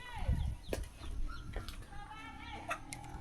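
Chickens cluck and peck while eating, giving short close clucks and chirps over a low rural background with faint scuffling.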